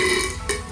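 A man lets out a single short, loud burp after drinking soda, close to the listener and heard alone.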